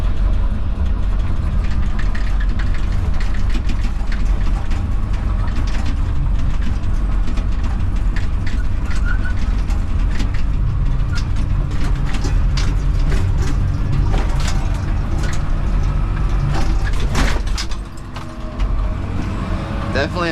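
Komatsu 71PXi bulldozer engine running steadily at close range with a constant loud low rumble and clanking mechanical rattles, while people talk over it, dipping briefly near the end.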